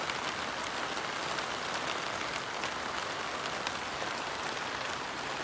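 Steady rain pattering on a campfire box and a hurricane lantern outdoors, a dense continuous hiss of drops on metal surfaces at close range with no voices.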